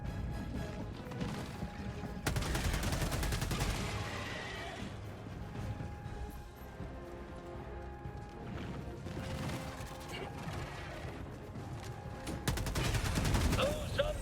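Heavy gunfire and chaotic bursts of fusillade fill a Helldivers II battle, with crashes and mechanical clatter mixed in and a voice talking over the action.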